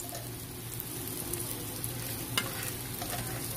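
Fish fries in a pan alongside arum, giving a steady, soft crackling sizzle with a single faint utensil tap partway through and no speech.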